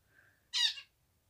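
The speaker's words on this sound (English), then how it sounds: "So these are his two finches. They're zebra finches." A single brief, nasal chirp from a pet zebra finch in a quiet indoor room, rising out of near silence and stopping quickly.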